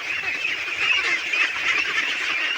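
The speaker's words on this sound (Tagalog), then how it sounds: "sama niyo po ako sa papakain natin alagang itik" Domestic ducks (itik) being fed snails, a steady dense chorus of honking quacks from a flock close by, continuous for the whole span with no talk.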